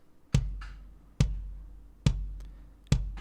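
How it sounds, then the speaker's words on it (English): Kick drum run through a Neve preamp and compressor for a 70s-style mix, struck four times at a steady, unhurried pulse, each hit close and punchy with a short decaying tail, played alone. "Here's the settings I have dialed for the kick drum. The kick sounds like this."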